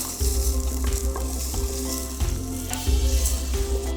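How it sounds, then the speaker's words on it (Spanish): Chopped onion hits hot oil and sizzles loudly, with a steady frying crackle broken by a few scraping stirs and brief pauses as the pan is worked. "Si suena, significa que ya el aceite está listo. Vamos a poner la cebolla y la vamos a revolver."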